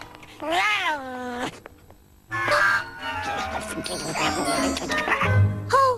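A cartoon cat in the Telugu dub of Kid vs Kat meows loudly in a long, rising-and-falling cry, followed by more meowing and yowls mixed with a person talking.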